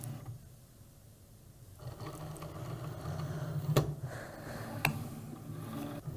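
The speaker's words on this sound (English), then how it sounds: "now that the machine has measured out the material length that I need" A Cricut cutting machine loads and measures a sheet of smart iron-on material, giving a steady mechanical whir with small clicking and ratcheting sounds and two brief sharper clacks, close by with no talking.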